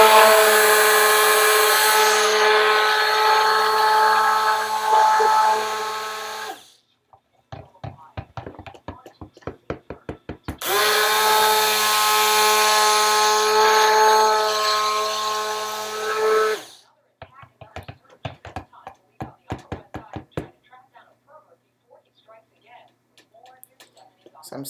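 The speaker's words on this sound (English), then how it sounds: "You want to give your stick blender a break in between" A stick blender whirs loudly in two long bursts while mixing castile soap, with a pause of clicking and tapping between them and more clattering afterward.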